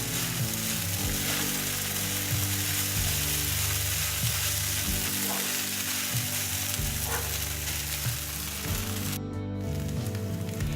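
Poha being stirred in a pan with fried nuts and green chillies, steady loud sizzling and frying with scraping stir strokes against the pan, no talking.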